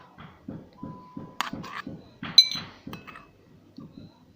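Slime is stirred with activator in a container, a steady rhythm of about a dozen clinking, scraping strokes close by, with brief higher clinks partway through.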